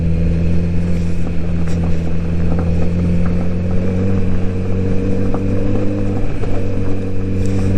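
A 2022 Kawasaki Z900RS motorcycle riding on a gravel road, with a steady engine drone and constant rumbling road and wind noise running unbroken throughout.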